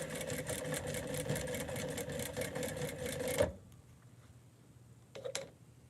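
A sewing machine runs steadily, stitching fabric onto the right side of a pair of pants during alterations, a fast even mechanical whir for about three and a half seconds before stopping, followed by a few faint clicks and handling sounds.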